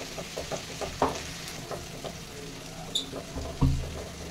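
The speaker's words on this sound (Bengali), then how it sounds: "এবার যে মশলাটা করে রেখেছিলাম ওই মশলাটা দিয়ে দেবো" Spice paste goes into a pan of fried chopped onions, sizzling and spattering up close, with a few soft clinks and stirring scrapes over a steady crackle.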